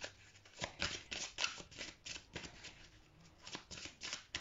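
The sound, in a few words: shuffling and drawing tarot cards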